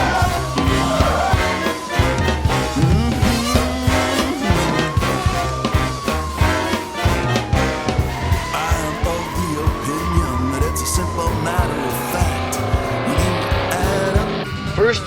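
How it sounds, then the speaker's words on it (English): High-speed chase involving a black and white 1974 Dodge sedan with Illinois plates: loud, continuous engine roar with tire squeals and skidding, dense and busy throughout, mixed with shouting and music-like tones. "We are in high-speed pursuit. Black and white 1974 Dodge sedan with Illinois plates."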